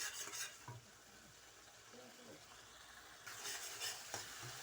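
Aloo chana biryani masala sizzles and fries in a pot while a spoon stirs it, soft scraping bursts over a steady low crackle, close and fairly quiet, with no talking.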